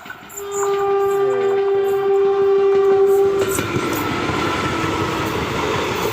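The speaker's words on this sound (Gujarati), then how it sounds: "ટ્રેનનું વરણ તો વાગે છે આમ ક્યાંક આવી ગઈ ભાઈ" A Rajkot–Veraval local train passes close by on the railway line. A long, loud horn blast sounds first, then gives way to the steady rumble and clatter of the rolling coaches.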